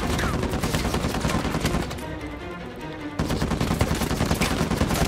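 Sustained bursts of rapid gunfire from an enemy brute in Uncharted 4, loud and dense, briefly muffled and dropping back for about a second before the full shooting resumes.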